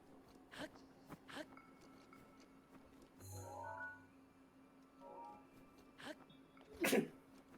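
A single sharp sneeze bursts out near the end, loud and close, after a few seconds of quiet room sound with faint small ticks and brief murmurs.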